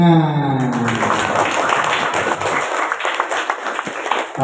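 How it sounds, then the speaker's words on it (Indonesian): Audience applause at the close of a school visit talk, starting under a fading tonal sound and voices, then continuing as scattered, uneven claps with some chatter. "Tepuk tangan."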